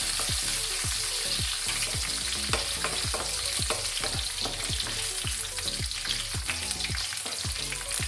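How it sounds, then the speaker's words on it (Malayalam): Cashews and raisins fry in hot oil for a Kerala-style egg biryani, giving a steady loud sizzle broken by a rapid run of sharp stirring clicks from a spoon against the pan, with no talking. "മുന്തിരിങ്ങ ഇട്ട് അതിന് ചെറുതായിട്ടൊന്ന് മൂത്ത് കഴിഞ്ഞിട്ട് പോകാം"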